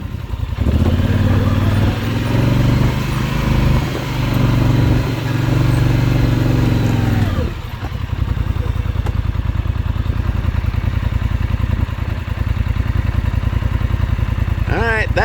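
A tractor engine churns through deep mud off-grid, a loud, steady low rumble with clattering that runs throughout, easing briefly near the midpoint before resuming at full strength.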